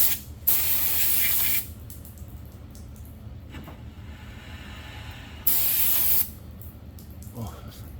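Aerosol brake cleaner hisses in two loud bursts of about a second each, sprayed close up onto the rear brakes of a 2004 Pontiac GTO, with quiet workshop noise between them.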